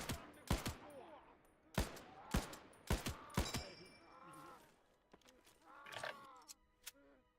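Enemy artillery fire in a wartime video game: a handful of sharp, loud blasts in irregular succession, with faint voices and tonal game sounds between them.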